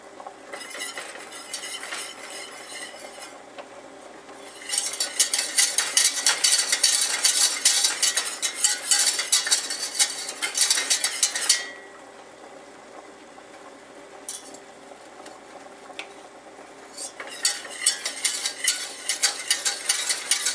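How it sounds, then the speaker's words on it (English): Whisking flour into melted butter in a pan for a roux: brisk, scraping metallic strokes in long steady bursts with pauses between, close and fairly clear, with no talk. "whisk it in with the butter"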